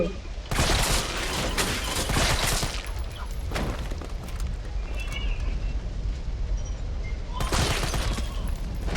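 Gunfire in the Resident Evil 3 Remake video game, loud bursts of rapid shots in long volleys with a quieter stretch between them, while a player talks over the action.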